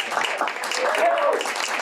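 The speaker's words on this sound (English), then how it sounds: "Let's give a round of applause to Emma." A community meeting audience gives a short burst of dense applause for a newly introduced executive director, steady and fairly close, with voices mixed in.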